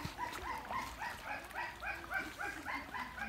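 A dog barks or yelps in a fast, regular series of short calls, fairly faint and somewhat distant, with no talking over it.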